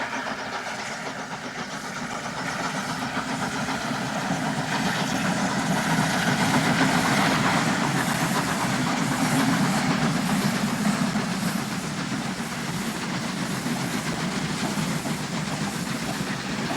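A Spanish RENFE train double-headed by a Pacific Garratt and an MZA 240 steam locomotive, both designed in the 1920s, rumbles past as a broad, continuous roar with rhythmic wheel clatter that swells and then holds steady.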